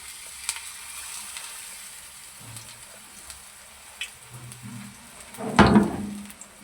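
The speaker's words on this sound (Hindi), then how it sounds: "हल्की आंच पे आपको फ्राई करना इसको" Bottle gourd kababs frying on low heat in a pan, with a soft steady sizzle, faint clicks, and a brief louder burst of crackling spatter near the end; no one talks.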